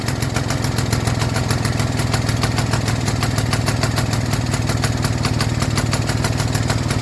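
An old Stuart Turner boat engine running steadily with a fast, even putter and a leaking exhaust, loud and close throughout, no talking over it.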